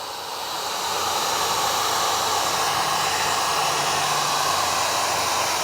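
A heat gun blows steadily while shrinking vinyl wrap on a car fender wheel well, a loud, close, continuous hiss that rises at the start and then holds constant.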